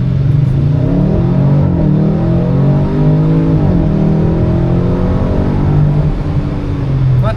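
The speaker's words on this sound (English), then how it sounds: "Let's give it a little 0 to 60 pull." A 2021 Audi RS6 Avant pulls hard from a standstill toward 60 mph, its engine note rising steadily and loudly through the gears in a continuous, close-up roar, with brief dips where shifts occur.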